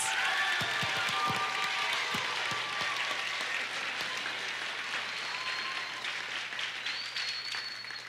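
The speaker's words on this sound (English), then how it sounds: "a big round of applause for all of our Symphonic Band seniors" Sustained applause from a large audience fills the space, steady and continuous throughout, with a few faint whistles rising above the clapping.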